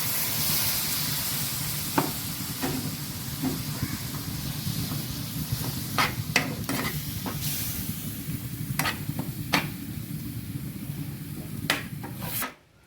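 Water is poured into soybean roast masala in a hot pan. A continuous sizzle runs throughout, broken by several sharp scraping clicks from a spoon against the pan.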